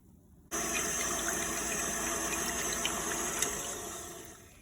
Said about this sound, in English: we're ready to add our milk.